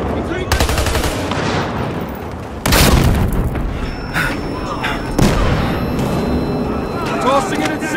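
Battlefield Hardline bank job firefight: bursts of close gunfire and loud blasts from an incendiary grenade, with several sharp impacts and continuous shooting throughout, under occasional shouted voices.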